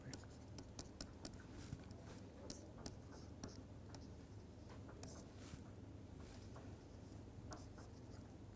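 A pen scratches and taps as equations are written by hand during a lecture on a dielectric-ideal conductor interface. Quiet, close strokes and small clicks come in an uneven rhythm, with faint room hiss behind them.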